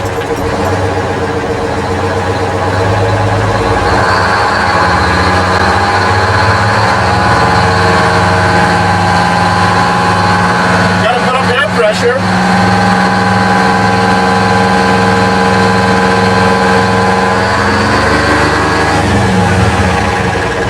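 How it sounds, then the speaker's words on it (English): A heavy truck with a 13-speed transmission runs after start-up at an equipment auction, a steady low diesel idle with a deep rumble, close and loud, with a brief rattle partway through. "let's start the truck up and let's go for a little road test."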